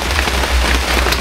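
Loud, steady rainfall pouring down outdoors, a dense continuous patter and hiss with low rumbling underneath, filling the whole stretch without any voices.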